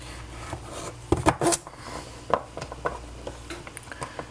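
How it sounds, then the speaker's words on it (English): A knife halving carrots on a cutting board while making spicy chicken soup. A few sharp, close chops land in an irregular rhythm over a quiet room. "I'm just going to go ahead and start by cutting all these carrots in half."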